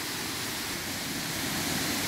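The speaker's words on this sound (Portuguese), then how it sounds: "Parece que a cachoeira é aqui. Tô ouvindo barulho." Steady, broadband rush of a waterfall, fairly faint and continuous, with no voices over it.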